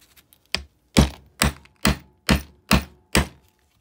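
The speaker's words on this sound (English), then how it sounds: "Bang it down flat." A socket bangs a seal down into a 1959 Evinrude 10 hp outboard motor, a close, sharp series of about seven evenly spaced metallic thunks after a couple of lighter taps, with no speech.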